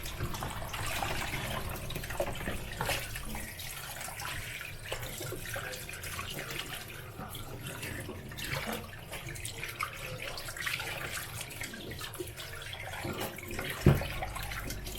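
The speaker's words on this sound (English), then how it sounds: "Wash it again properly." Water from a tap runs continuously while a large para fish is washed for a charcoal barbecue in Dukhan, Qatar; a soft, even splashing flow with one brief clatter near the end and no talking.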